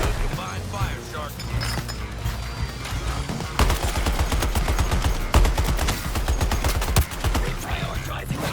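Dense, continuous gunfire from a Suicide Squad: Kill the Justice League battle, rapid automatic bursts layered over explosions and game music, loud and sustained for the whole stretch, with a character's voice breaking in.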